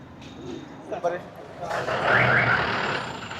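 Buses and traffic pass along narrow town streets in Arequipa, with a low engine rumble swelling into a louder, hissing pass-by close at hand.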